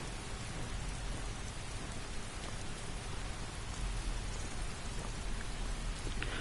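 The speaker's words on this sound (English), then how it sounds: "I'd like to make the rain thick. Chunky. Chunky rain." Dense, steady rain pours down in Skyrim on a dark, gloomy day, a continuous broadband hiss with scattered drop patter and no voices.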